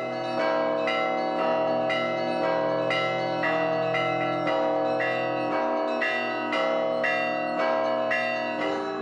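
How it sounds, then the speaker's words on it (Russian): Ancient monastery bells ring in Suzdal, with a deep tolling bell and brighter smaller bells striking in a steady rhythmic peal, resonant and sustained, with no voices. "каждый час можно слушать перезвон древних колоколов"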